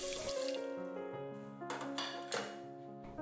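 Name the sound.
washing mung beans with water in a pot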